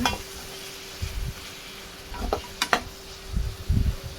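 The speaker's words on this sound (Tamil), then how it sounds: "நல்லா கிளறி விட்டுக்கோங்க" Brinjal and turmeric stirred in oil in a hot pan, a spoon scraping and clinking against metal over a steady low sizzle.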